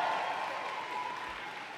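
Graduating class at a university convocation ceremony applauding families, friends and faculty; steady, dense clapping from a large seated crowd, fairly distant and even, holding level throughout.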